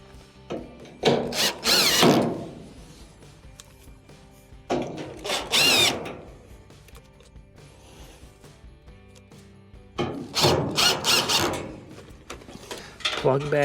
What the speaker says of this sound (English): Next, go around and reinstall your Phillips screws.